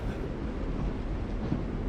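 A train rumbles steadily at close range, a continuous low, rough roar with no breaks, loud and unvaried across the moment.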